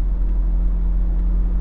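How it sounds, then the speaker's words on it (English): A C5 Corvette manual V8 convertible drives through a curve, giving a steady, loud, low engine rumble that holds evenly without breaks. "there's something about the manual Corvette, old school V8, big torque, convertible, driving through the curves experience"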